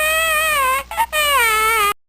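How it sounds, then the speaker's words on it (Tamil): A baby cries in a Tamil voice-over drama scene, one continuous wavering wail close and loud, briefly broken near the middle, then cutting off abruptly. "பேபி வேற அழுகுறியான்"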